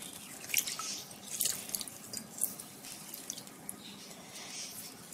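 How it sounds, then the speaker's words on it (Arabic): Lemon squeezed by hand into a bowl of water, with soft dripping and trickling splashes and a few wet squishes, close and quiet, no talking. "معايا ليمونه هعصرها"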